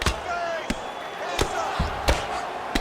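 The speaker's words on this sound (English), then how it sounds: "Outstanding ground and pound here." Ground and pound punches land in an EA Sports UFC fight on PS5, four sharp thudding impacts spaced about every 0.7 seconds, over a faint arena crowd and background commentary.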